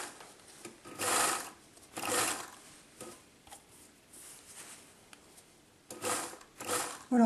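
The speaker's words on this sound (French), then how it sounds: "on va faire un zigzag qui va être réparti sur les deux tissus" A sewing machine stitches a zigzag across two layers of fabric in several short, fairly loud bursts with quiet pauses between, on a test run with fabric scraps.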